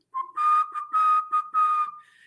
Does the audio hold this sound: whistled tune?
yes